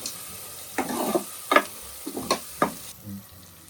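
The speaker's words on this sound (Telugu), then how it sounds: "అల్లం వెల్లుల్లిపాయ పేస్ట్ పచ్చివాసన పోయేంత వరకు వేయించుకోవటం" Ginger garlic paste frying in a pan, with a soft sizzle broken by several distinct stirring scrapes at irregular intervals, close and moderately loud.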